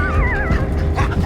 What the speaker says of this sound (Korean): 손님이 올 때마다 반복되는 짖음과 흥분.